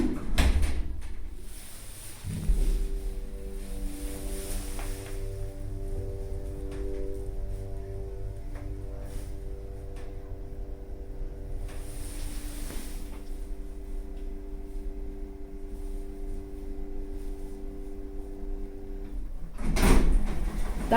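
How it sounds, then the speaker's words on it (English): Roped hydraulic lift in Sutton, London, its motor running steadily as the car travels, a sustained tonal hum with several harmonics, preceded and followed by door-like clunks, no talking. "That motor sound is just epic and legendary."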